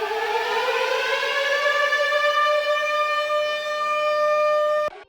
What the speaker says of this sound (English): This is the unprocessed Siren.